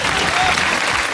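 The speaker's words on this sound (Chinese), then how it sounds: "来练掌声吧" Brief burst of dense, close audience applause on a Chinese studio show, even and loud for about a second.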